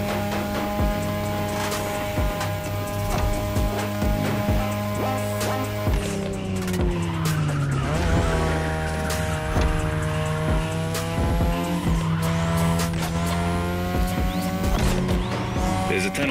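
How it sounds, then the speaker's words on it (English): A third-generation 2002 Mazda RX-7 with a rotary engine racing in The Crew Motorfest: a loud, sustained high engine note that drops and climbs through gear shifts, with tire squeal and swooshes of passing traffic. "Tonight, your ride is a 3rd Gen 2002 Mazda RX-7. Lightweight, compact, a sick rotary engine, and one hell of a look."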